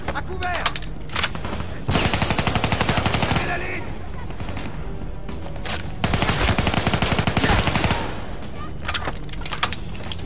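Heavy automatic gunfire in the Call of Duty Black Ops 3 video game, loud rapid bursts and sustained volleys with an intense firefight running throughout, mixed with other battle noise.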